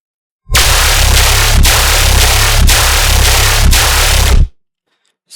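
A loud, heavily processed gun-growl synth bass, made in Serum in FL Studio, growls without a break for about four seconds. It has a deep low end and a rhythmic wobble, then stops abruptly.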